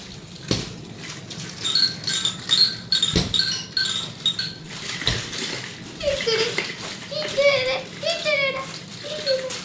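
A group of children play noisily in a home hall, shrieking and chattering in bursts over sharp knocks and bangs, close and lively throughout.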